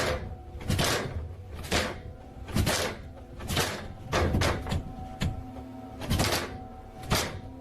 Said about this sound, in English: the attic door starts rattling jarringly